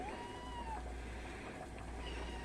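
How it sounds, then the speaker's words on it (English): A kitten meows, first a clear drawn-out cry and then a couple of fainter mews, all soft over a constant low hum. "My cats are very vocal. Kittens, anyways."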